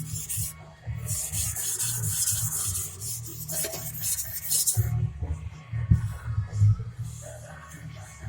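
A Gyuto chef's knife stroked along a sharpening stone in repeated gritty scraping passes, close and fairly quiet, with short pauses and a brief louder rasp near the middle.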